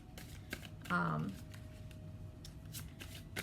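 A new Gilded Tarot Royale tarot deck is shuffled close by, with quick papery riffles and flicks and a brief louder burst, under a faint voice.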